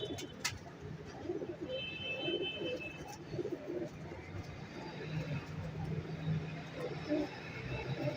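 Star pigeons in a home-bred loft cooing, with a female among them; soft low coos repeat through the clip, with some faint background murmur.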